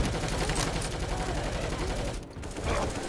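Rapid gunfire from several players' weapons pours into the Tank in Left 4 Dead 2, a dense, continuous volley with a short dip before the shooting resumes, with faint voices in the mix.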